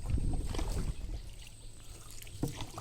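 A small wooden boat is rowed through the Sundarbans mangrove forest, with soft oar splashes and trickling water close by, fairly quiet and over in a few seconds.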